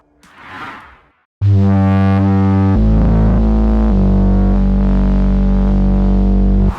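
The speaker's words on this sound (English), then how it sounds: "By filtering different waveforms that much with a low pass filter, what we end up with is a sine wave." A Roland SE-02 synthesizer playing a square wave with its low-pass filter closed almost completely, giving a loud, round, sine-like tone that holds steady for several seconds after a brief soft breathy swell.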